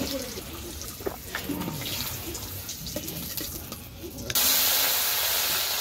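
Potatoes fry in a pan, a steady hiss that jumps to a sudden louder sizzle near the end, with a voice talking over it.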